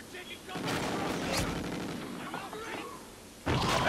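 Shotgun blasts in Call of Duty: Ghosts clan-versus-clan Strikezone play, loud booming shots in a busy firefight mixed under a voice, with another heavy blast at the end.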